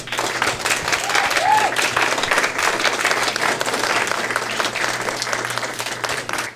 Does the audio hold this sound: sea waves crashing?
no